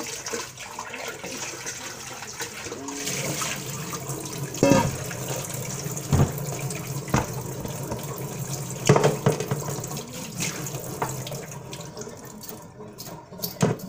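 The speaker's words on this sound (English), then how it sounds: "I'm gonna give it a little rinse." Food for a Valentine's dinner is rinsed under a running kitchen tap, a steady close splash of water that goes on throughout, with a few louder knocks and clunks in the sink.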